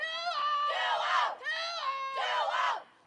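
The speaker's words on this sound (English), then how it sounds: "Big organized cheer or chant from the Kennedy bench right there." The Bloomington Kennedy bench at a softball game against Benilde-St. Margaret's chants an organized cheer, a group of voices calling two rhythmic, sung phrases in a repeating call pattern, clear and fairly close.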